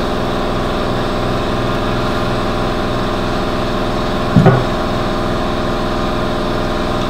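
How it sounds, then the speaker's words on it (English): An air compressor runs steadily in an upholstery workshop during work on an Eastlake chair, producing a constant mechanical drone with a brief louder knock partway through. "there's our friendly air compressor"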